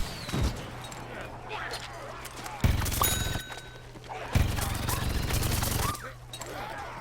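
Sky Trooper in PVZ Garden Warfare 2 unleashing bursts of very rapid gunfire, two long rattling volleys over steady game background hum, loud and close.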